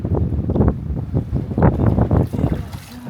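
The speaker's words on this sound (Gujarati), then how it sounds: "પવન જ બહુ છે" Strong seashore wind at Diu during crab fishing blasts the microphone in loud, gusty bursts, a close rumbling roar that rises and falls in quick surges throughout.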